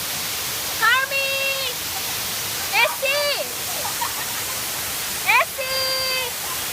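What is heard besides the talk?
loud rushing water at Bato Springs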